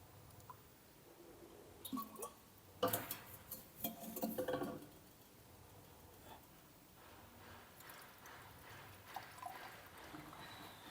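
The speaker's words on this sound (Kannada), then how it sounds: "ಈಗ ಸ್ಟೀಮರ್ಗೆ ನಾನು ನೀರನ್ನು ಹಾಕ್ತಾಯಿದ್ದೀನಿ" Water pouring into a handheld facial steamer by the cupful, with clattering and clinking of a container and handling noises mid-way, fairly quiet overall and without talk.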